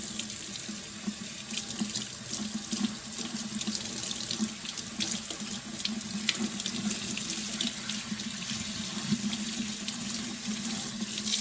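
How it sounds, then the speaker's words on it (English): Cold tap water runs steadily into a sink, splashing as dye is rinsed out of a lace top wig, continuous and fairly close with no talking. "And I'm just going to carefully rinse these sections out without having it go on that lace."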